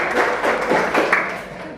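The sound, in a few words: class applauding a student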